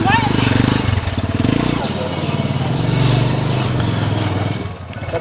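A motorcycle engine runs during a ride, a loud, close, pulsing rumble that holds steady throughout beneath continuous talking.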